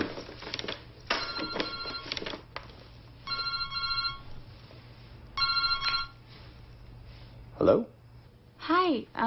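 A cell phone rings in short repeated electronic bursts of tonal chimes separated by gaps, with people talking in between.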